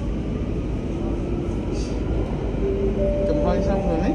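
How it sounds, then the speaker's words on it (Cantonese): A Singapore subway metro train ride: a steady, loud rumble and whir of the moving carriage throughout, with faint rising tones near the end and voices talking softly over it. "坐地鐵。"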